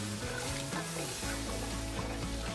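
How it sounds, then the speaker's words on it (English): Beef broth, two and a half cups, heats toward a boil in a pan with a steady sizzling bubble and some stirring noise, close and continuous with no talk. "we are going to bring this to a boil."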